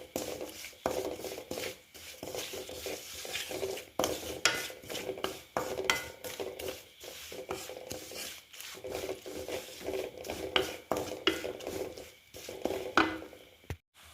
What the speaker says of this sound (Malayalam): നല്ല ഒന്ന് ഇളക്കി കൊടുക്കുക